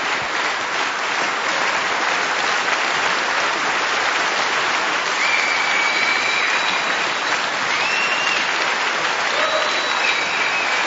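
A snooker audience applauds Mark Selby's win over Joe Swail in a Paul Hunter Classic final, steady dense clapping from a sizeable crowd that holds at an even, loud level throughout without letting up.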